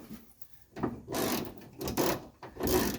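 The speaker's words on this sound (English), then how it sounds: "This is a 10 millimeter. We're going to undo this bolt here." A 10 mm wrench undoes a bolt inside the door of a 1983 Mercedes 300TD with a few short, close ratcheting and scraping bursts, spaced unevenly over about three seconds.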